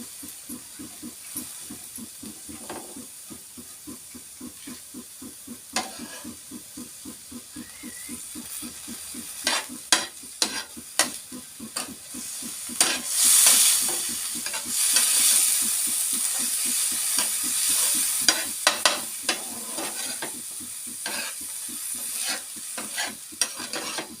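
Ghee sizzles in a pan while surukumbi is cooked, with a spoon scraping and stirring in quick, regular strokes. A hissing fry swells louder midway and stays close and steady throughout.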